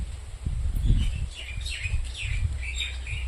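Birds chirp and tweet in an outdoor village setting in Porbandar while feeding on almonds and chikoo fruit, with repeated high calls scattered over a low, steady background rumble.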